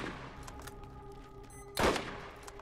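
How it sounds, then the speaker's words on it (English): A single sharp sniper rifle shot in Borderlands, fairly faint overall, cracking out once near the end over a quiet, humming game background. "Let's try this new sniper rifle out."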